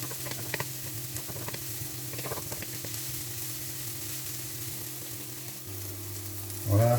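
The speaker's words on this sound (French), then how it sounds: "Là, on va bien chauffer, on va mettre l'échalote. Là, on laisse revenir doucement" Shallot sizzles gently in a hot pan, a steady crackling hiss with occasional soft stirring clicks. A louder burst comes at the very end.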